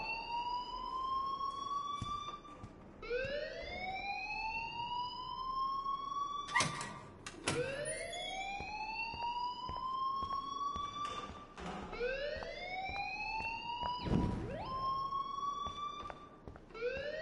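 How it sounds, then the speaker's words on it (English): In the video game Life Is Strange, an electronic alarm loops continuously for the whole stretch, sweeping upward again and again with a loud, whooping tone, while a few sharp knocks and thuds land in between. "please turn off that alarm since that's your job"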